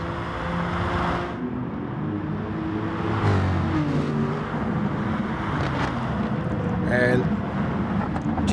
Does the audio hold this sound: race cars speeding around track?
yes